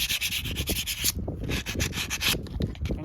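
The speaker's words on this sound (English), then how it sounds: "And then you get your sandpaper." Sandpaper rubs back and forth across glazed brake pads in quick rasping strokes, close and steady, with a brief pause partway through.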